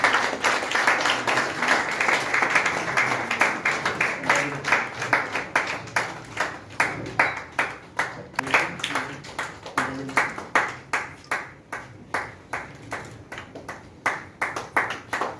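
An audience at a Kerala commerce teachers award ceremony applauds steadily throughout, the clapping gradually thinning into sparser, rhythmic claps with no talk over it.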